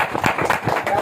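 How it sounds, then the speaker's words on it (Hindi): Congregation at a church sermon clapping briefly, a short uneven patter of several hands close by, loud and quick. "तालियां बजानी चाहिए।"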